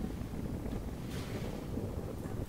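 Wind blows across an alien landscape in the Astroneer video game, a constant broadband rushing noise at moderate level with a brief hissy swell midway and no speech.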